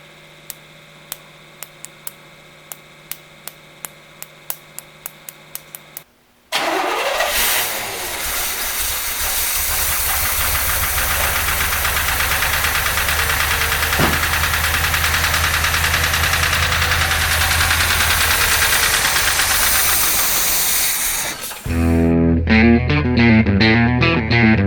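A 1973 Corvette Stingray with a 454 big-block fires up after a few short clicks and runs loud and steady for about fifteen seconds, a rough rumbling idle with a hiss over it, before cutting out.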